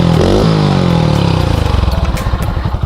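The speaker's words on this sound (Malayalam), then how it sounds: "യൂറോ 1 സൈലൻസറാണ് കേട്ടോ വണ്ടിയിൽ സെറ്റ് ചെയ്തേക്കുന്നത്." A modified Hero Honda Splendor motorcycle fitted with a Euro 1 silencer is heard up close and loud. A rising rev falls away into a rapid, throaty exhaust pulse.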